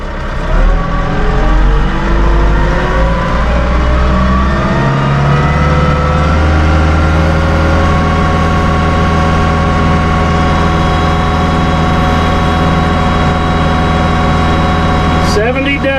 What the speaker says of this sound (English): we're going to run the engine RPMs up.